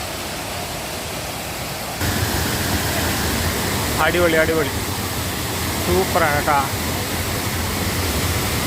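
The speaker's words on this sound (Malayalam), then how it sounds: "ഒരു 10-30 അടി മേളിൽ നിന്ന് വെള്ളം വീഴുന്ന സൂപ്പറാണ്, സൂപ്പർ സൂപ്പർ." Kumbhavurutty waterfall in Kerala, near the Achankovil–Chengottai road, with water dropping about 10 to 30 feet. It makes a steady, broad rushing roar that grows louder partway through, while people talk excitedly over it.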